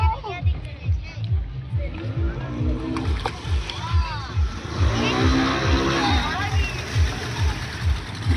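A speed boat ride at Rongdhonu Park near Sona Masjid in Shibganj, Chapainawabganj, with a steady, pulsing engine drone, water splashing and rushing against the hull, and voices talking over the noise.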